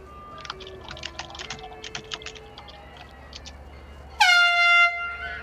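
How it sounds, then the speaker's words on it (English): A loud air horn blares abruptly and holds steady for over a second, cutting in after a stretch of quieter scattered ambient noise and clicking. "There's the air horn."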